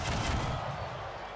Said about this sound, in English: No firing fireworks into your opponent's faces, please.